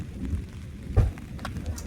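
Steady rain hisses and patters throughout a thunderstorm, and a single low, muffled thunder thump lands near the middle.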